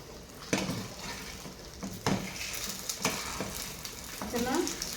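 Vanjaram fish fries in a pan with a steady crackling sizzle, cut by several sharp clatters of a utensil stirring and turning the pieces, close and clear with no talking.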